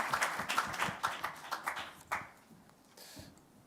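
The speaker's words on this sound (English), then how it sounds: "Round of applause for" Audience applause at a materials and manufacturing showcase session on supply chains, a short burst of clapping fading out after about two seconds, moderately close.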